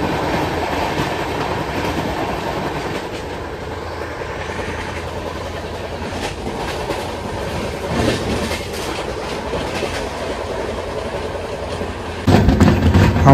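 The 12337 Shantiniketan Express rolls slowly through Banpas railway station, a steady clickety-clack of wheels and rattling coaches that runs the whole time and grows louder and harsher in the last second.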